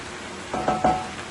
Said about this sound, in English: I'm going to let this fry for about 2 to 3 minutes